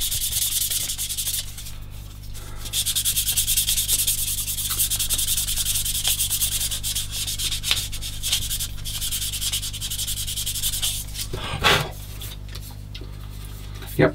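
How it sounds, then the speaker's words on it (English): A soft sanding sponge rubbed over a 1/16 scale model tank, giving a continuous close abrasive rasp with a steady back-and-forth scrubbing rhythm for the whole stretch, interrupted briefly by one sharper scrape near the end. "I'm going with a soft sponge just over the top of the whole thing."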